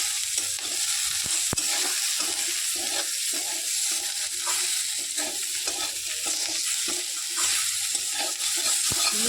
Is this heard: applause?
no